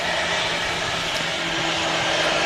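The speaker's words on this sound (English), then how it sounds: "This KLM is in from Amsterdam." A KLM Boeing 737-800 airliner, 14 years old, arriving from Amsterdam at Manchester Airport, with a steady, broad jet engine roar and a faint whine that hold evenly throughout.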